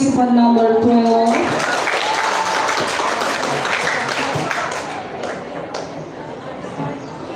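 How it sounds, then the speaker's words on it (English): An audience claps for a participant at a school storytelling contest; after a brief voice at the start, scattered, fairly close clapping continues and slowly fades. "give applause for participant number 12"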